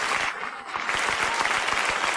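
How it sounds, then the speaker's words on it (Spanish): Church congregation clapping steadily and thickly throughout, a warm, full round of applause during a sermon. "Que alguien aplauda si está agradecido de que seamos suyos 2 veces"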